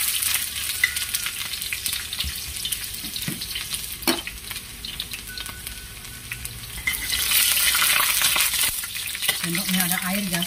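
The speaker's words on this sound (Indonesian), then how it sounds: "Oke guys, sekarang kita panaskan minyaknya dan kita tumis guys." Garlic and shallots stir-fry in hot oil for an oyster-sauce clam dish, with a steady sizzle, a few spoon scrapes and knocks against the pan, and the frying swelling louder toward the end.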